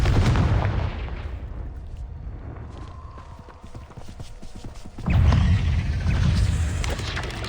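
Confringo fire spells detonate in Hogwarts Legacy as loud, close booming blasts, with one heavy burst at the start and another near the end, and a rumbling lull between them.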